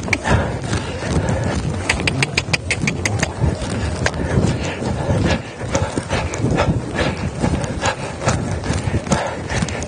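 A five-year-old mare's hooves clip-clop at a steady rhythmic gait during a long-and-low dressage warm-up, loud and close on the arena footing, with faint background noise and no talk.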